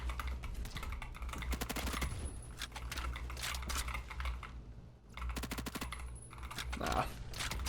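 Rapid gunfire bursts from the first-person shooter game Phantom Forces rattle in quick strings with short pauses between them. A player talks over the shots.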